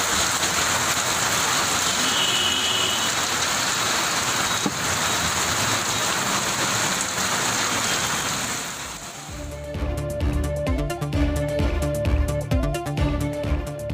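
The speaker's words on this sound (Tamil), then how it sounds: "தமிழகத்தின் பல்வேறு பகுதிகளில் மழை பொழிவு." Rain falling somewhere in Tamil Nadu, a dense, steady hiss for about nine seconds before music takes over.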